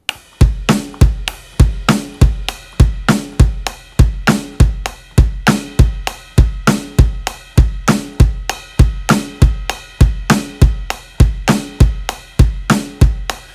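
A drum kit plays a slow groove, the bass drum landing on the and of four, with steady, evenly spaced hits and cymbal wash over about thirteen seconds, loud and close with no talking.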